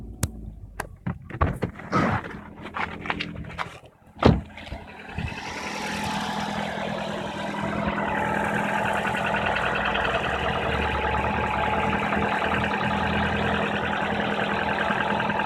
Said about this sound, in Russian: на холодную появляется характерный стук и продлевается вплоть до момента прогрева двигателя